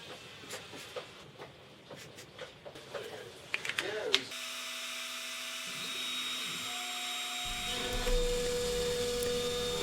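A CNC machine cuts a test square, starting with scattered knocks and clicks, then a loud, steady high-pitched spindle whine joined by a shifting motor drone, close and continuous.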